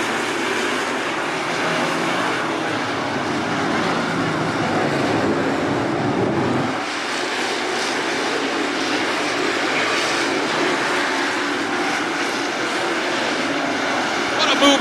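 Race cars at Attica Raceway Park snarl past in a dense, loud wall of engine noise, with a lower surge for the first several seconds before it thins slightly, and faint talk underneath.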